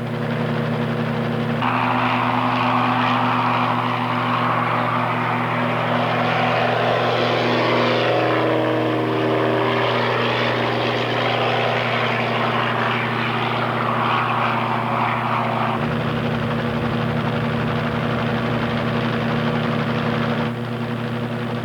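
Loud, continuous droning of a crop-spraying helicopter's engine and rotor overhead on a farm, holding steady for a long stretch before the pitch shifts and the sound cuts off.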